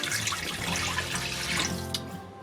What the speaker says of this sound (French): Donc là on va venir mettre 450 ml de bouillon de légumes